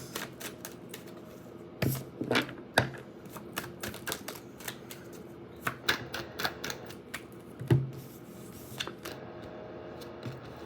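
Tarot cards are shuffled by hand in a quiet room, giving a run of soft, irregular snaps and riffling clicks with brief pauses between bursts.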